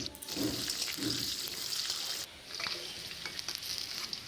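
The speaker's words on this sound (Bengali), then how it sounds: "এখন আমি আলু কটাতে লবণ হলুদ মাখিয়ে বেশ লাল লাল করে ভেজে নেব।" Potato pieces coated with salt and turmeric frying in hot oil, a steady close sizzle with stirring scrapes, briefly dipping partway before crackling on.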